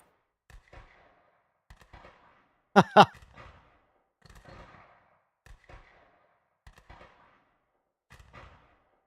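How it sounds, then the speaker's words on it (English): A string of sharp, sparse pops of a car exhaust backfiring in a racing video game, spaced about a second apart, with one louder double crack partway through. "It's an exhaust backfire."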